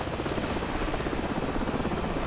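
Enemy helicopters in the Call of Duty 4: Modern Warfare video game, a loud, steady rotor thrum with rapid blade chop filling the whole stretch, close and continuous with no voices.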